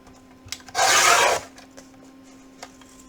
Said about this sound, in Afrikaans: Terwyl ek nou dit het, gaan ek sommer my 2 bande sny.